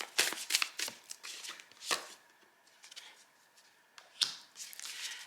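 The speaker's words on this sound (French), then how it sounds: "Je vais tirer les 3 cartes" Tarot cards drawn from a deck one after another, giving close, crisp slaps and flicks in quick clusters with quieter pauses between, and no voices.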